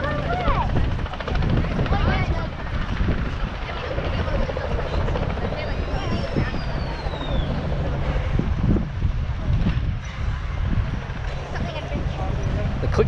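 A heritage steam train turning around makes a loud, continuous rhythmic thumping and rumbling like a helicopter, with wind noise on the microphone and people talking over it.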